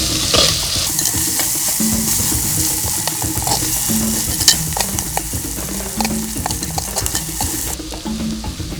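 Coriander, mint, cilantro and chopped tomato fry in a pot over a wood fire, crackling and sizzling loudly and steadily while a spoon stirs and scrapes in repeated strokes.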